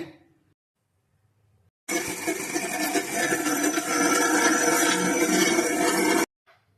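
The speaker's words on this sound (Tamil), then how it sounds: "மிக்ஸ் ஜாரில் போட்டுட்டோம் இப்போ இதை அரைச்சி எடுத்துக்கலாம்" Mixer grinder running close and loud as crab curry masala is ground into a paste, a steady whirring grind that starts abruptly after near-silence, holds for about four seconds and cuts off sharply, with no talk.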